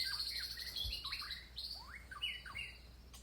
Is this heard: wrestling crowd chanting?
no